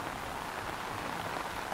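Rain beginning to fall outdoors beside a newly built parking area for a car, a faint, steady patter of drops on surfaces with no voices.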